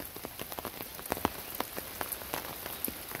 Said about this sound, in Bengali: এখন বৃষ্টি কম আছে, হালকা পড়তে আছে, কিন্তু মাঝে মাঝে খুব জোরে সোরেও বৃষ্টি হইতেছে